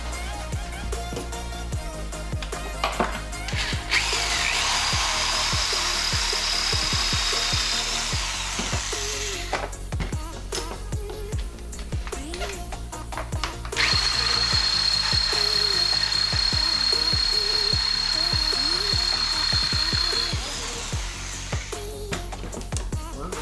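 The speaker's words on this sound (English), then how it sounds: "Got my drill bit, and we are going to be widening this hole right now." A power drill whines loudly in two long bursts, grinding as it widens a hole, with quieter handling noises and pauses between.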